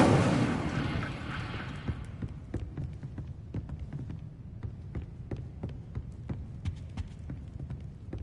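A burst of fire from the Incendio spell in Hogwarts Legacy: a loud whooshing flare that fades over two seconds into a run of sharp crackles and pops over a low rumbling hum.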